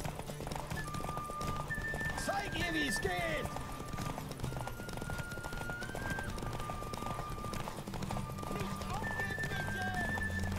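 Galloping hooves clatter in a fast rhythm with horses whinnying, set against a steady soundtrack from the video game The Witcher 3: Wild Hunt; a voice talks intermittently.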